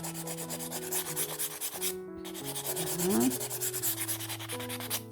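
Steady, close-up rubbing of fine sandpaper across a leather edge, a continuous gritty scrape in repeated back-and-forth strokes with no talking.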